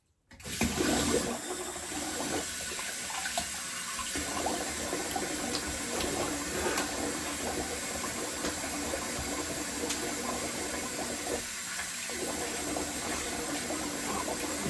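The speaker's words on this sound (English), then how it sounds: "Get cold water." Cold water runs from a bathroom tap in a steady, close rush that starts abruptly and continues evenly without pause, with faint background clinks.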